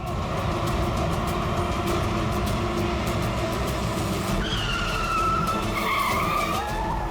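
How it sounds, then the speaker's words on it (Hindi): Tires screech as a car brakes hard to a stop, a loud continuous skid over an engine rumble that rises into a higher squeal near the end, with no voices. "ये इसने गाड़ी क्यों रोक दी?"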